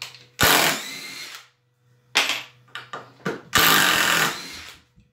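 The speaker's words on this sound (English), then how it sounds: "with a 3 amp hour battery, this little drill is almost just as quick" Small cordless Craftsman drill with a 3 amp-hour battery driving screws into wood, loud close bursts of motor whine in three main runs with brief short pulses between, no voices.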